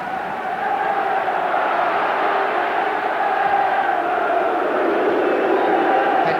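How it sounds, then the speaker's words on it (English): Home crowd at the Dell, Southampton's ground, booing during a Southampton versus Liverpool football match, a broad sustained roar of many voices that swells slightly and never breaks off. "Hence the boos of the home crowd."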